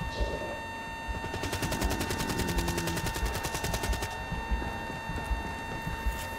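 Rapid automatic gunfire rattles off in a video game, a steady burst of evenly spaced shots running for several seconds over a constant electronic hum before stopping abruptly.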